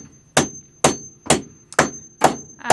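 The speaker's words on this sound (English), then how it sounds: "Now I'm going to push it, hammer it back through the hole again." Sharp metallic hammer blows ring out at a steady pace, six clanging strikes about half a second apart, close and loud, driving a bolt back through a hole in metal.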